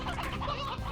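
Chickens cluck in the video game Slime Rancher, a short, close burst of fowl clucking with no talking over it.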